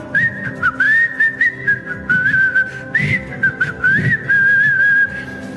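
Someone whistles a melodic tune up close, with wavering notes, short pauses between phrases, and soft background clatter.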